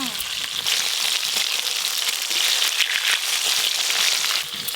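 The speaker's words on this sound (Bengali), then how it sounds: "মাছ ভাজছে কত সুন্দর একটা গন্ধ বেরোচ্ছে বলো তো।" Fish frying in oil gives a loud, continuous crackling sizzle, close and unbroken from start to finish.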